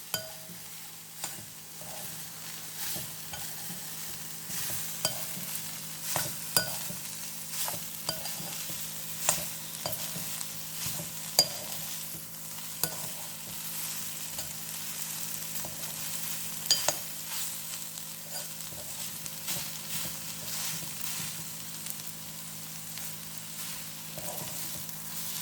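In a pan of soya varuval, tomatoes fry with a steady quiet sizzle while a spoon scrapes and taps through them in irregular stirring strokes.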